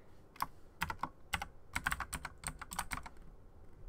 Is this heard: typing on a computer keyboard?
yes